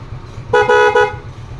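A loud, brassy aftermarket horn on a Suzuki Smash motorcycle blares in three quick, close bursts over a steady idling engine, then stops.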